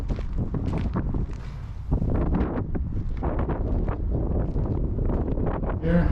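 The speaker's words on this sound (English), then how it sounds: "It is extremely windy up here." Strong gusting wind at Battery Spencer, a hilltop lookout above the bridge, buffeting the microphone in loud, uneven blasts and rumbles with brief lulls.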